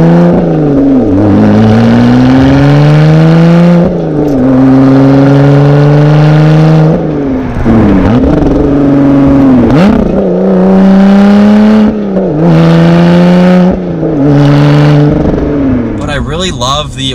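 A 2020 Lotus Evora GT sports car revs hard through its gears, each loud engine pull climbing steadily before a brief drop at the shift, repeating several times up close.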